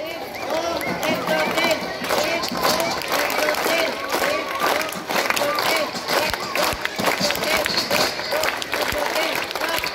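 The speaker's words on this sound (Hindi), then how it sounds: "चलो 5 ताली से।" A group of children at a school Children's Day event claps in unison, the rhythmic crowd claps mixed with cheering and chatter throughout.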